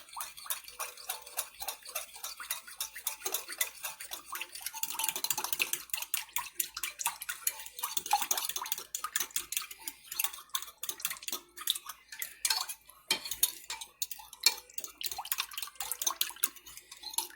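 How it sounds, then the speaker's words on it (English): A fork whisks egg into milk in a bowl, rapid light ticking and clinking strokes that run continuously and fairly quietly, with no voices. "we'll just take a fork and whisk that egg into that milk"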